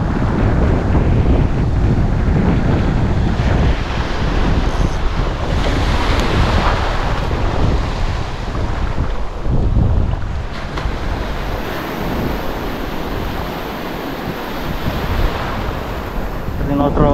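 Ocean waves wash and break along a shore in a steady, loud roar, with heavy wind buffeting the microphone throughout and a brief voice heard faintly beneath.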